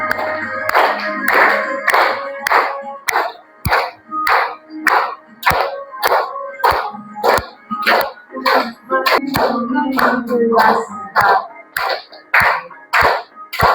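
A group claps hands in a regular rhythm, in bursts of sharp, close claps over a background of singing or music.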